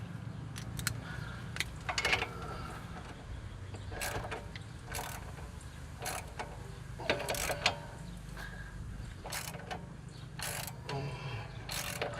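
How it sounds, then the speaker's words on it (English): A ratchet wrench tightening sway bar link bolts during suspension work on a GM crossover, giving quick clicking bursts of the pawl between pauses, up close over a low background hum, no speech. "So torque those down to 55 foot-pounds and you'll be good."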